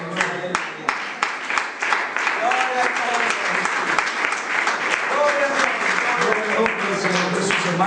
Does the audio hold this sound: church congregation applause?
yes